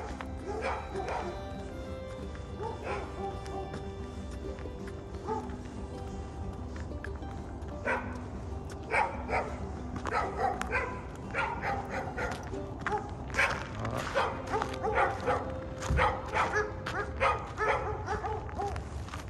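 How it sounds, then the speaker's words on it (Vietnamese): A dog barks outdoors on a winter day in a residential neighbourhood of Edmonton, Canada, sporadic at first and then in repeated rapid volleys, while a person talks over the barking. "Con chó nó thấy mình cũng sủa quá."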